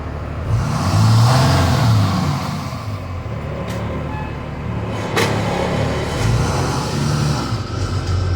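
A 2005 Thomas EF school bus with a Cummins 5.9L ISB common-rail diesel drones loudly from inside the cabin as it drives, the engine note rising and settling with road rumble and a couple of sharp knocks.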